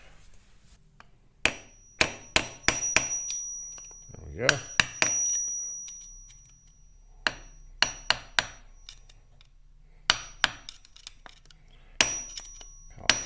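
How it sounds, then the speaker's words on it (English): A hammer strikes a screwdriver to knock a countershaft seal flush on a 2021.5 GPX Moto TSE250R motorcycle, sharp metallic taps in quick bursts of several blows with pauses, close and clear, with a brief spoken remark. "So I'll get a screwdriver and a hammer and we'll pound that guy out and flush."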